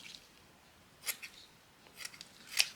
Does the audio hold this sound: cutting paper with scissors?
yes